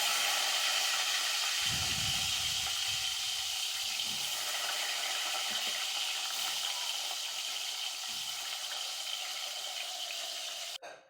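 Eggplant frying in hot oil gives a steady, close hiss that holds through the whole stretch, with a few soft low rumbles underneath, before cutting off abruptly at the end.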